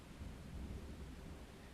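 Low, rolling thunder rumbling through a steady wash of rain during a rainstorm, a continuous deep grumble with no voices.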